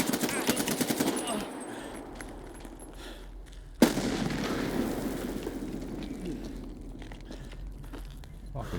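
Frag grenade and gunfire in Escape from Tarkov: rapid bursts of automatic fire, then a sharp blast midway followed by a continuing rattle of shots, with a voice talking over parts of it.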